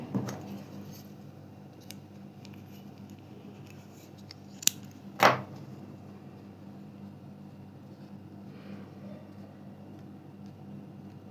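Scissors snip through crochet lace thread in one short, crisp cut near the middle, with a fainter click just before it, against a quiet room hiss.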